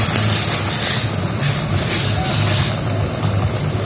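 Egg-batter coated food dropped into hot oil in a kadai gives a loud, dense sizzling crackle that holds steady and close, with a voice speaking over it.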